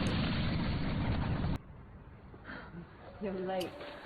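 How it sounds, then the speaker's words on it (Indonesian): A loud, sustained blast-like roar of noise cuts off abruptly as a crocodile is electrocuted and explodes in a film sound effect, then low rumbling follows and a voice speaks briefly over it. "Buaya ini tersetrum hingga meledak"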